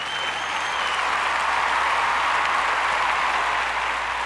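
Loud, dense applause from a crowd plays as a stream sound alert, a continuous wash of clapping that fills the whole stretch evenly.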